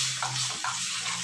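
Corn flour gravy for baby corn manchurian thickening in a pan as it is stirred, with a soft steady bubbling sizzle and two or three gentle scraping strokes close by.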